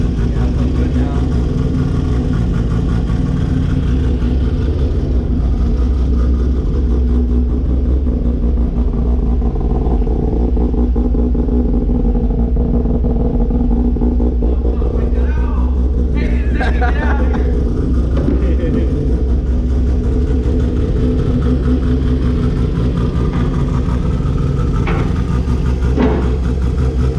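A turbocharged Mazda RX-8 idles steadily after an exhaust leak repair, a low, even rumble throughout, with a brief rise in mechanical noise partway through.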